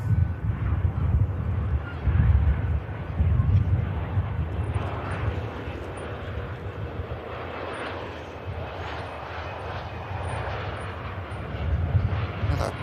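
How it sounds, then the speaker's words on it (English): Logan Air Embraer jet touching down at Manchester Airport in a direct crosswind, a loud rumbling engine roar with swelling low-end surges, heard near and continuous. "Next out is the TAP after this Logan Air touchdown"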